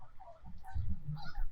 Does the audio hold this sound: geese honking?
yes